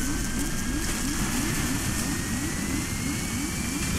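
A plane going down in the video game Stranded Deep, a steady loud engine drone with a rising whine and a repeating rhythmic rumble underneath, constant throughout.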